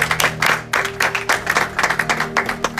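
A church congregation breaks into sustained applause, dense overlapping claps filling the room in loud repeated bursts with a steady rhythmic pulse throughout.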